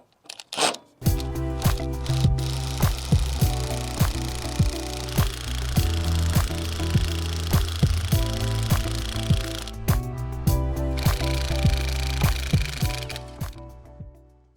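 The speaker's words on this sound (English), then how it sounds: "impact wrench at the ready, and let's see if we can get this one off" An impact wrench loosens bolts on a railway brake van end plate, hammering in long loud rapid bursts with a buzzing pulse, starting and stopping a few times, close up and alone.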